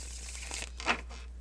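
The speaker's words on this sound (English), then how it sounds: "So I'm just shuffling, and then I'm just going to start reading from the bottom of the deck" A short papery riffle and crinkle of tarot cards being shuffled by hand, close and brief, with a slight swell near the end over a steady low hum.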